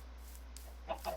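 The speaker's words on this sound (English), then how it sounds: "Chickens, Eddie." Minecraft chickens clucking, a couple of short, soft clucks near the end of a quiet stretch, with no talking.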